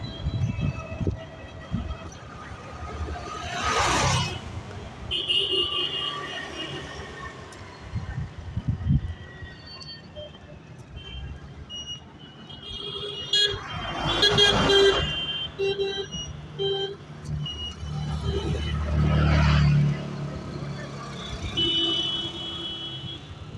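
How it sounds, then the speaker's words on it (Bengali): Traffic streams along the Jateshwar highway, engines rumbling and passing vehicles swelling in and out, with several sharp horn toots cutting through at intervals. "এই হাইওয়ে ক্রস করে গেলাম।"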